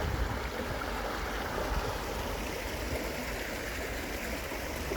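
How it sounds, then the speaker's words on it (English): Brook water rushes steadily down a man-made channel along Bradshaw Brook, a continuous close broadband babble and splash with no break and no voices. "Made a channel for the water to come down."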